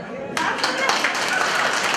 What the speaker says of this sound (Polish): I tu zawsze były brawa.